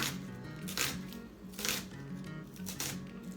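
Knife slicing onion lengthwise on a cutting board, a few close rasping cuts with soft board contact repeating at a slow, even pace.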